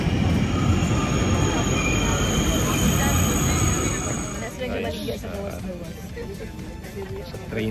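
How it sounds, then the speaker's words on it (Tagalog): A train bound for Paris rumbles loudly with dense rail and wheel noise, easing to a quieter steady roll midway, while people talk over it. "Yan ang train namin guys, papuntang Paris."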